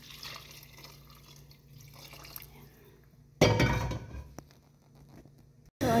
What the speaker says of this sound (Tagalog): Meron tayong chicken stock. So, lagay natin yung tubig ng chicken.